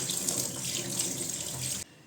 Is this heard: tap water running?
yes